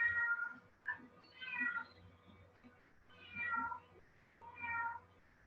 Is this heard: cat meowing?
yes